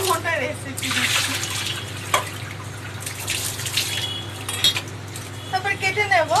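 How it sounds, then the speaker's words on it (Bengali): Olives are rubbed and washed by hand in water for chutney, with sloshing, dripping and light clinks of a metal bowl, close up, while someone speaks over the washing. "প্রথমে জলপাইটাকে ভালো করে একটু কচলে ধুয়ে নিতে হবে"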